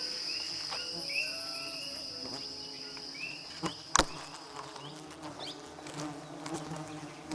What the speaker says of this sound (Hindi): कुछ एक मधुमक्खियां मानो टोह लेने निकल पड़ती हैं।